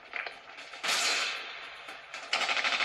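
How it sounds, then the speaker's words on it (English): Gunfire in the video game COD Mobile, heard as bursts of rapid shots and a sharp whip-like crack, loud and close with short gaps between volleys. "let's go ahead and check out some COD Mobile gameplay"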